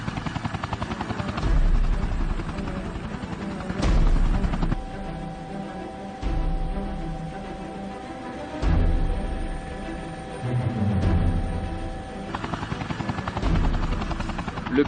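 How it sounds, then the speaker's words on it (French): Helicopter flying over the Himalayan region, a steady close rotor thump and turbine whine throughout, with rhythmic swells in loudness and no talking. "Je suis toujours ravi de monter en hélicoptère, où que je sois."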